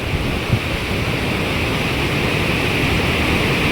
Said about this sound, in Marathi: एकदमच खतरनाक धबधबा आणि हा तिंदरीचा धबधबा आहे मित्रांनो